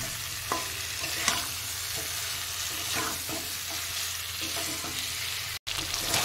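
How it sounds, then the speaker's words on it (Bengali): Cauliflower being stir-fried with spice masala in a pan gives a steady sizzle broken by periodic spatula scrapes, continuous and close with a brief drop near the end. "ফুলকপির সাথে মশলাটা আমি খানিকক্ষণ একটু কষিয়ে নেব"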